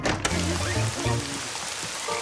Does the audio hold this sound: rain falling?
yes